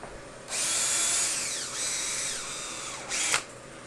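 A battery drill bores air inlet holes by hand into a 21-station pneumatic fixture, whining loudly at close range in two long runs with a falling pitch as it loads up, then a brief final burst.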